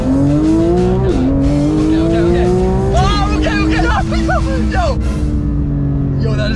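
Car driving fast with loud tire squeals, engine tone rising and shifting through gears while wavering squeals pile on top, close and sustained, with voices mixed in.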